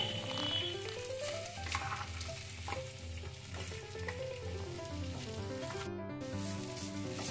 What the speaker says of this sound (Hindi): पहले एक मिनट फ्राई करने के बाद अब हम इसमें आलू रखेंगे